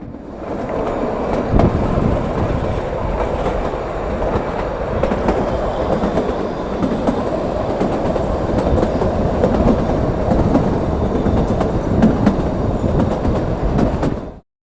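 Shimla to Kalka toy train, train no. 52458, running steadily on its rails with continuous loud rumble and rhythmic wheel clatter, heard up close from on board without talk, ending abruptly.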